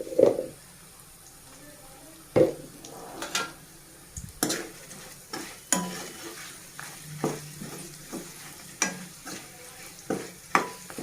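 White brinjal fry being stirred in a pan, with repeated scraping knocks of the spatula against the pan over a soft steady sizzle, close and alone.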